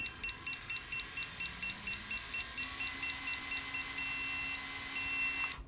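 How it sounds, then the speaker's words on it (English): An FMS Atlas 6x6 V2 1/18 scale RC off-road truck with a new motor, run at max throttle, gives a string of regular short electronic beeps, then one sustained high tone over a faint motor whine. "you hear that long beep. That means we're maxed."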